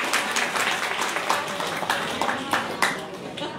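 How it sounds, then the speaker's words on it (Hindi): Audience clapping at a Gita seminar in Baraut, a continuous ripple of hands for a few seconds with some sharper claps popping out, fairly close and filling the room. "इनके प्रभु जी के लिए ताली बजाओ"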